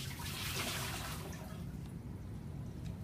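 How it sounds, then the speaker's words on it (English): Water from a bomb calorimeter dumped into a bucket during a heat-of-combustion test with granola; a loud, close rushing pour fades into dripping and trickling, with no voices. "So I'm going to dump this water in the bucket."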